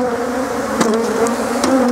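Honeybees buzz continuously around a hive as a super is added, a steady close drone with brief louder swells as individual bees pass near.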